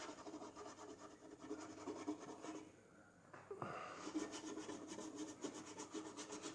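A dry paintbrush rubs oils into wood on a model Cheng Ho junk ship, a close, steady scratchy brushing that continues throughout with a brief quieter pause midway.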